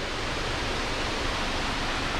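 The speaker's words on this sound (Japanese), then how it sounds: "あんなとこに滝あったんか" Steady, dense rushing of a waterfall beside a forest road in the mountains of Wakayama, a continuous broadband roar with no breaks or voices.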